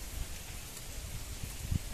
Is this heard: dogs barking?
no